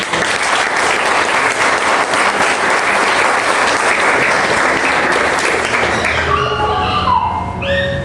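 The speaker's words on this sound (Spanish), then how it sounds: "Si cree, dan un aplauso." A church congregation applauds during a sermon, a loud, dense, sustained wash of clapping that fades after about six seconds as a voice takes over.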